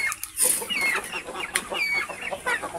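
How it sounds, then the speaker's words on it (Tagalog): Rhode Island chickens cluck steadily in a large coop, with several hens calling close by in overlapping bursts and a brief sharper squawk near the start. "Mga alaga nating manok, ayan."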